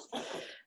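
A child gives a single short, sharp sneeze indoors, fairly quiet, with no talking.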